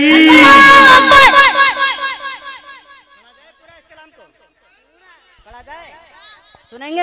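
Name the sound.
crowd chanting in response to the Naara-e-Takbeer call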